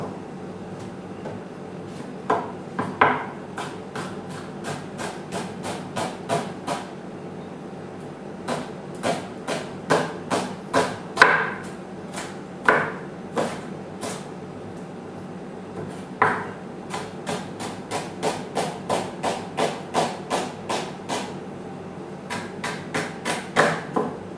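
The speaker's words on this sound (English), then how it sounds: "I'm going to cut this into small slices." A knife cutting food into small slices on a board for semolina upma gives quick runs of sharp, rhythmic chopping taps in bursts separated by short pauses, close and clear with no talking.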